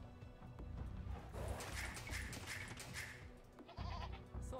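Goat bleating in the real-time strategy game Age of Empires II, a few short bleats over busy game music and battle clatter, moderately loud, with no talking.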